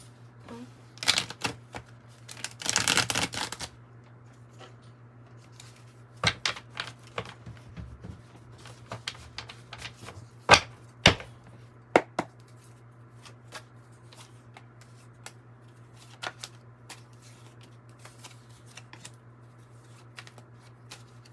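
A tarot card deck is shuffled in quick riffling bursts with soft taps and pauses between them, close by and fairly quiet, with no one speaking.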